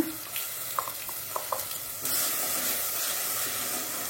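Ground masala frying in hot oil for a Mangalore-style sole fish curry, with a few soft clicks before a loud, steady sizzle suddenly rises and holds.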